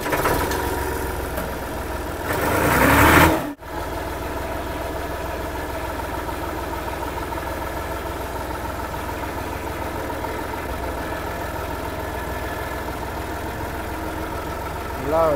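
A Massey 260 Deluxe tractor engine cranks with a short starter whir, then settles into a steady low idle that runs on evenly throughout.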